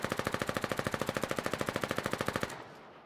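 Fiddler SMG firing in Foxhole, a rapid burst of about thirty evenly spaced shots over two and a half seconds, loud and close, then cutting off into a short fading tail.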